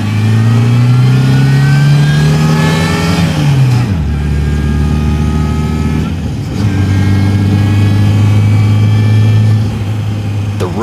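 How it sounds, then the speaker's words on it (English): Supercharged 1971 MG sports car accelerating hard on a winding rally road, the engine loud and close, rising in pitch, dropping after a gear change, then pulling steadily again. "this 1971 MG does have a supercharger, and Bob was eager to showcase what it sounds like"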